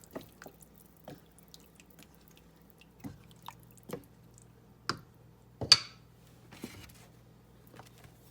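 A spoon stirs a pot of homemade vegetable soup just after vegetable broth is added, giving faint, scattered clinks and soft wet squishes at irregular intervals in a quiet room.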